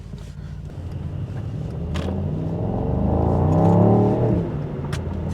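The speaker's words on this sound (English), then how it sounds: "you can definitely hear the V8 rumble, of course" A 2024 Mercedes-AMG GT63 coupé's V8 rumbles from inside the cabin while driving, a steady low drone that swells as it accelerates and then eases back.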